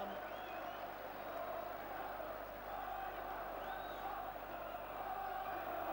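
Around 5,000 Newcastle United fans at a football match against Rotherham United chanting Bobby Robson's name, a distant, steady crowd roar with a sung chant rising through it, heard from afar without commentary.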